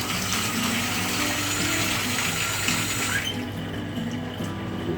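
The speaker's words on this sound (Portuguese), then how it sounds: "Agora eu vou encher de água." Tap water pours steadily into a container of washed white hominy corn, a loud rushing gush that cuts off abruptly after about three seconds, leaving a quieter residual trickle.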